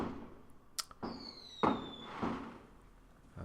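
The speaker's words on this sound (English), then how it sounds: "that's why you're hearing the fireworks going off here" Fireworks going off outside around early November, heard as a few sharp cracks and pops with a whistling streak, moderately distant and fairly quiet, with no voices.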